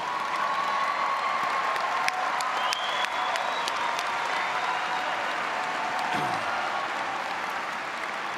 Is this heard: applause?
yes